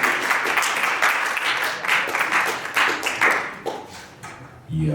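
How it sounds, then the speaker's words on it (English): Audience claps for Doe Dubes at a fireside chat gathering, a steady patter of hands from a fairly close crowd that thins out and stops near the end. "clap it up for Doe Dubes in the building"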